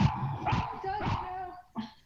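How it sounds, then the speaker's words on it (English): A dog indoors gives a few thin whines and whimpers at moderate volume, mixed in with people talking nearby. "The dog agrees with your answer."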